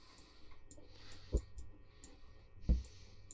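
Two sharp, close clicks, about a second and a half apart, from a computer mouse while playing the game Tick Tock: A Tale for Two, over a faint room hiss with no talk.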